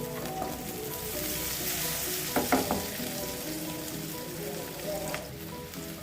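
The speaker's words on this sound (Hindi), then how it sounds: "इसमें हम भिंडियों को हल्की आंच पे फ्राई करेंगे" Okra frying gently in hot oil over low-to-medium heat, a steady dense sizzle throughout with a few brief clinks of stirring near the middle.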